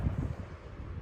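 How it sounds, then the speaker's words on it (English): Wind blows across a mountain hiking trail on the Pacific Crest Trail between Tehachapi and Walker Pass, a low steady rumble buffeting the microphone, moderately loud and with no one talking. "It looks like the wind is calming down."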